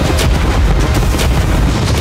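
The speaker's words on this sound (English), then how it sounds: "Fire the cannons!" Cannons firing at a yacht produce a dense, continuous barrage of loud booms and blasts, overlapping heavily with no gaps and no talk.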